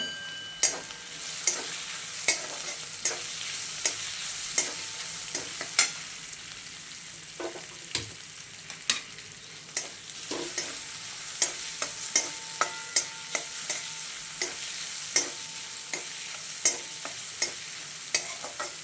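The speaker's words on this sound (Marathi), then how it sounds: "शेंगदाणे क्रश केलेले, भिजवलेले शेंगदाणे आणि हिरवी मिरची थोडंसं लालसर भाजून घ्यायचं." Soaked crushed peanuts and green chillies roast in a pan with a soft steady sizzle, while a spoon stirs and scrapes against the pan in regular clinks and taps throughout.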